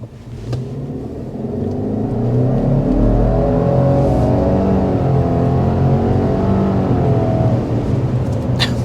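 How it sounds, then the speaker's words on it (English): A 2024 Subaru Legacy Sport accelerating hard: a loud, steady engine and road roar that builds and holds throughout, with rising harmonic tones as the engine climbs through the revs, heard from inside the car with no talking. "we want to go ahead and start with a hard acceleration"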